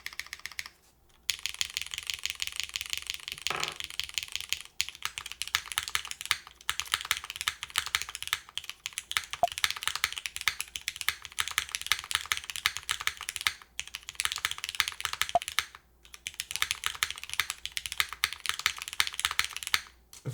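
Steady, rapid clacking of a Supernova 60 mechanical keyboard being typed on, with a few brief pauses between bursts.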